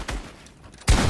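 Gunfire in an arena shooter video game, with a burst of shots near the start, a quieter stretch, then a loud, close volley toward the end.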